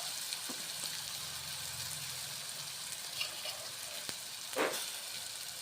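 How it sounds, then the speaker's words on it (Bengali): Spices for a cabbage and red lentil dish being sautéed in oil in a pan, a soft, steady sizzle with a few scraping stirs. "বাঁধাকপির মশলাটা এখন কষে নিচ্ছি।"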